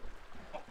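Chickens clucking in the Minecraft video game, a few short game-style clucks heard close and fairly quiet over a soft background.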